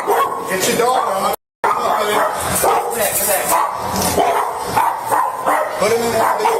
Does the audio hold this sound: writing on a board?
no